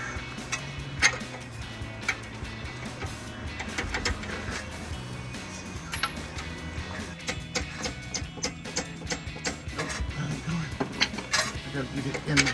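A ratchet with an 18mm socket clicks rapidly in bursts while working on a Jeep Gladiator steering stabilizer install, with metallic clatter of tools between runs.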